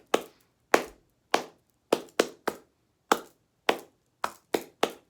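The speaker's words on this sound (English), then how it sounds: "Follow this clapping pattern." Hands clap a rhythmic pattern of about twelve sharp, close claps in repeating groups of two and three, with short gaps between the groups.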